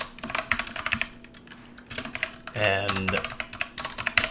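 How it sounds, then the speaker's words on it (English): Rapid clicking of computer keyboard keys being typed on while adding a font in GIMP, steady close-up clatter with a brief spoken word over it. "then you can just start typing away"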